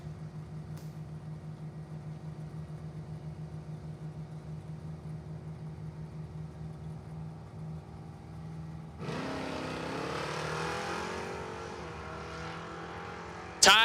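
A 3rd-gen Camaro and a 1970 Chevelle race at Numidia Dragway. A long steady low hum of idling engines suddenly gives way to a loud, rising roar as the cars launch and accelerate away.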